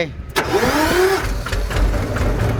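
A customized Thai mini farm vehicle (E-taen) with new mag wheels starts on its electric starter. A brief whirring crank catches into a loud, close, rumbling idle, with voices faintly mixed in.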